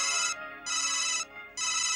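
A telephone rings loudly and close, in two repeated electronic ring bursts of about half a second each, separated by short pauses, with no speech over it.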